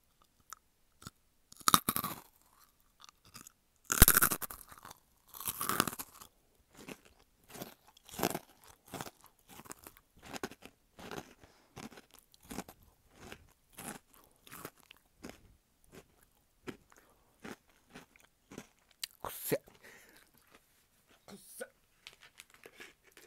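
Loud, close crunching and chewing of crisp Jagarico potato stick snacks in irregular bursts, with occasional crinkling and a few soft voices in between.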